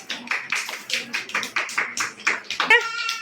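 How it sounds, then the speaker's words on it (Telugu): A group of children claps together in an even rhythm, about a dozen sharp claps in quick succession, close by, with a few voices mixed in. "అందరు క్లాప్ కొట్టండి."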